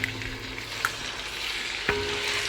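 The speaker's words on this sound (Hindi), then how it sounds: "ऑयल थोड़ा ज़्यादा लिया है क्योंकि हमने चिकन को फ्राई करना है।" Half a kilo of chicken pieces frying in plenty of hot oil for karahi, a steady close broadband sizzle with a few sharp pops and crackles standing out.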